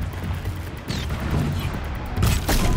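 A gunshot in the Horizon Zero Dawn: The Frozen Wilds expansion on PS4: a sharp, loud burst near the end of the clip, rising out of a steady, rumbling game backdrop with no voice.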